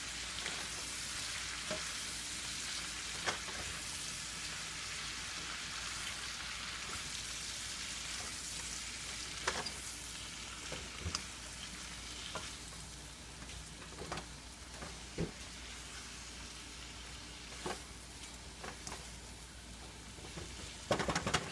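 Vegetables and ginger crackle steadily in a frying pan for vegetable lo mein, a soft continuous fry broken by scattered clicks and scrapes of the stirring utensil.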